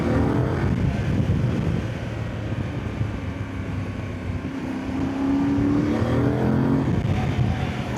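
A Voge DS800X Rally adventure motorcycle engine droning while riding, a steady rumbling tone under wind rush with mild rises and falls in pitch as the revs shift, loud and continuous with no talking.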